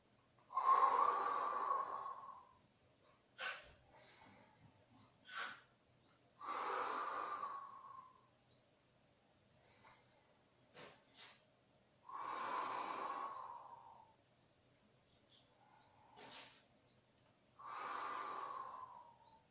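Steady Pilates breathing, six or seven breathy exhalations and sharper inhaled snorts spaced a few seconds apart, close and quiet with near silence between breaths.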